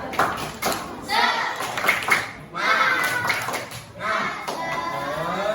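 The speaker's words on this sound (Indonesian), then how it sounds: "Tepuk semangat." Children in a classroom clap a rhythmic spirit clap in bursts, with chanting voices mixed in over the rhythm.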